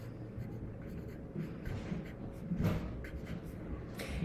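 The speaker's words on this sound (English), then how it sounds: "let me write it like that, on top of your fraction" Writing on a surface while a fraction is worked out during a math lesson, a steady scratching that runs the whole time, close and fairly quiet with no voice over it.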